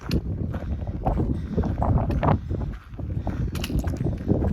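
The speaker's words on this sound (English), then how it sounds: "the wind's kind of whipping a little bit up here" Wind gusts buffet the microphone on a hillside hiking trail, producing rough, rumbling bursts that swell and fade irregularly, loud and close, with no speech.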